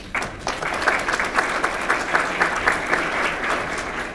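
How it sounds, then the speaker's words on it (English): Summit attendees at an affordable housing event give a full round of clapping, dense and even, with individual claps faintly standing out and no speech. "I think you all deserve your own round of applause."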